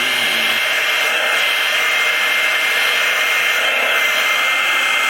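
A heat gun blows with a steady, loud broadband whoosh while shrinking covering fabric on a Sopwith Camel model aircraft wing. The sound is close and continuous with no talking.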